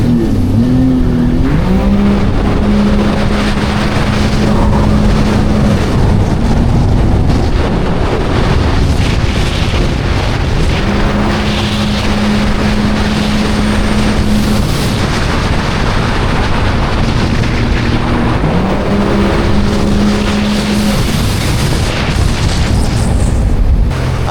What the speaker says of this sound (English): this jet ski, for just having what it has, is pretty quick